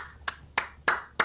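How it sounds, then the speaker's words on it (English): Four sharp, evenly spaced claps in the video game Insurgency, each a crisp transient about a third of a second apart, fairly faint over a quiet background. "Who is clapping?"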